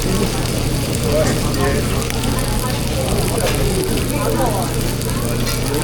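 Pork belly sizzles and crackles steadily on a cauldron-lid grill at a Korean barbecue meal, a dense continuous hiss heard close, with people chatting over it.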